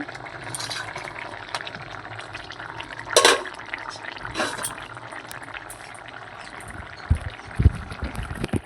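Fish pieces go into a pot of water already at a rolling boil for a home-style bhola fish and potato curry, giving splashy plops and liquid bubbling with a few sharp clinks, close and alone without talk.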